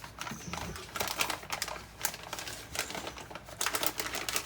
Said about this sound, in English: this punch down tool has a cutter, so you can cut the wire as well